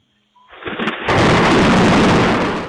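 A lightning strike's thunder bursts in suddenly as a loud, sharp crack that swells into a sustained, roaring rumble, recorded up close through a doorbell camera with no voices present.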